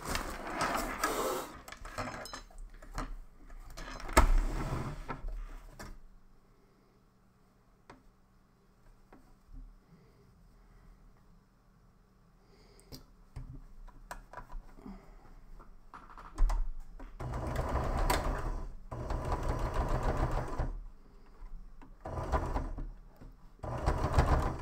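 Sewing machine stitching fake-fur fabric for a plush doll, running in two loud rhythmic bursts at the start and end with a quieter pause of scattered handling clicks in between.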